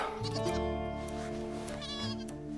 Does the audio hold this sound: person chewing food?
no